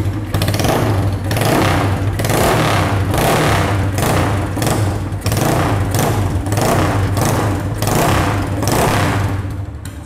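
A Yamaha Scorpio chopper-style motorcycle with a rebuilt engine and a short free-flow exhaust revs close by, its deep, booming, slightly cracked exhaust note pulsing in steady repeated blips for about ten seconds, loud and with no talk.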